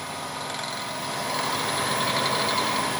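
A Harbor Freight metal lathe's electric motor runs steadily at a little over half speed, a continuous whirring hum with a faint whine, gradually swelling slightly louder, with no talking.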